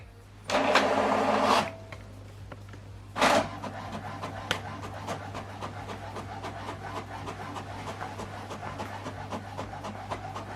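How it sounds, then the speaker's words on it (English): An HP Deskjet printer printing a document gives a steady faint mechanical whir with repeated soft ticks and a couple of louder feed or carriage bursts near the start, close and without talk. "So now printing this document page 2 and 3."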